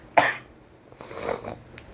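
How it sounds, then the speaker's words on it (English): A single sharp cough up close, followed by a softer raspy breath or second rough exhalation. "I still have a nasty cough."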